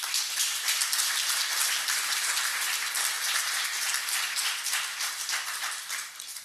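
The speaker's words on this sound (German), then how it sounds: "Ich glaube, das ist ein Applaus wert." Audience at an annual meeting of a society applauds after live music, a dense rain-like patter of many hands that stays steady and then gradually tapers off.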